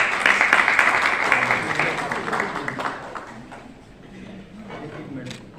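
Loud audience applause at an award ceremony, a dense wash of clapping from a crowd that is strongest at the start and gradually thins toward the end, with some background voices mixed in.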